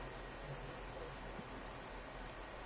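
Rain at the British Grand Prix at Silverstone in an F2 racing video game, a dense, even hiss of rainfall with a low rumble beneath, steady and unbroken.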